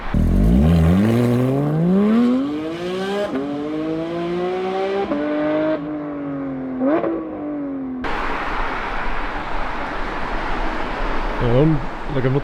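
A rare, expensive matte-finished sports car engine revs hard in several rising and falling pulls, loud and close, then settles into a rougher idle-like rumble with a few short blips toward the end.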